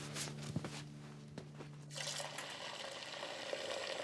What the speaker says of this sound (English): I'll fill up your water bowl